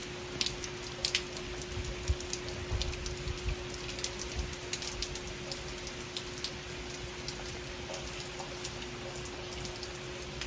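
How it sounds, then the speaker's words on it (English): Heavy storm rain pours steadily in Santa Cruz, a dense continuous hiss with scattered louder drops spattering on nearby surfaces throughout, no voices. "The rain's gotten heavier."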